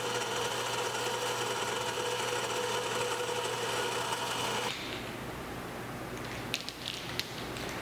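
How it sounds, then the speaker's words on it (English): A steady mechanical whine of a drill press drilling holes in a crossbow prod runs for several seconds, then cuts off, leaving quieter room noise and a couple of light knocks. "I'm just going to drill 2 easy holes right down the marks."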